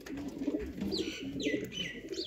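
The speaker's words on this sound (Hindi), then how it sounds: "रिजल्टेड सियालकोटी छत वाले कबूतर" Sialkoti rooftop pigeons coo repeatedly in low, throaty rolling phrases, with brief higher chirps and rustles in between, close by and steady throughout.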